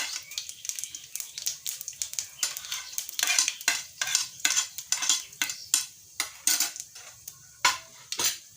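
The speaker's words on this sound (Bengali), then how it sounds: "তেলটা গরম হয়ে গেছে এখন আমি দিয়ে দেবো পাঁচফোড়ন" Panch phoron spices hit hot oil and are stirred, producing a light sizzle under a quick, irregular series of metallic scrapes and clinks from a utensil against the pan, fairly close and steady throughout.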